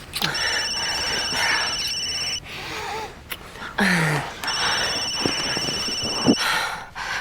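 A telephone rings in repeated electronic trilling bursts with a pause between, fairly close, with voices and movement around it.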